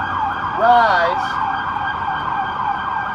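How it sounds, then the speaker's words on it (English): An emergency vehicle siren passes during an evening candlelight vigil, its wailing pitch sweeping up and down loudly near the start, then settling into a steady high tone that persists under faint background noise. "after the siren."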